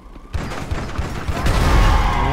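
Rapid bursts of GTA 5 gunfire crackle and boom, growing denser and louder into a sustained barrage with low rumbling blasts.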